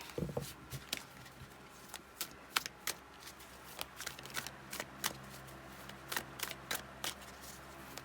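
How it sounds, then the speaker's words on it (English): Tarot cards are shuffled close by in a steady run of soft riffling and flicking, with sharper slaps now and then over a faint background hiss. "Shuffling on camera as you see, so thanks for your patience."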